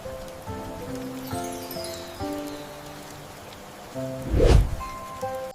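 Steady rain falls in a continuous hiss, with a louder gust or rumble swelling briefly near the end, heard alone without voices.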